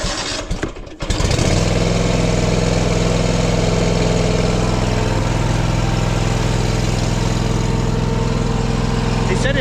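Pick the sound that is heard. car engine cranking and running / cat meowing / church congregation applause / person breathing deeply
car engine cranking and running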